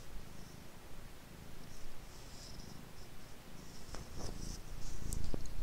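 A pet cat named Patches purring softly and continuously close by, a low faint rumble under quiet room noise with a few light rustles toward the end.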